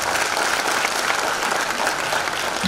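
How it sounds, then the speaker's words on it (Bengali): Steady, dense audience applause fills a hall at the centenary programme of Ramakrishna Ashrama, Dinajpur, holding at an even, fairly loud level throughout with no pause. "একটু করতালি দিতে হবে তো"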